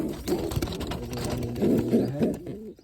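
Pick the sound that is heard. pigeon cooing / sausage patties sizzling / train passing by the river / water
pigeon cooing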